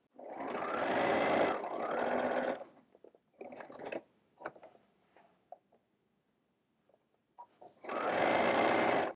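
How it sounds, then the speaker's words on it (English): Sewing machine stitching the side seams and bottom of a lined, reversible tote bag, heard as two loud, steady runs of rapid stitching at the start and end, with quiet fabric handling and faint clicks between. "sew the side seams and the bottom, but leave a 4 inch gap along the very bottom"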